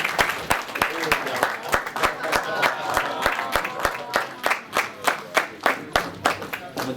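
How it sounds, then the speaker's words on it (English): An audience at a boxing post-fight press conference in Brooklyn claps in a steady round of applause, individual claps rhythmic and fairly close, with some crowd murmur mixed in. "So another round of applause."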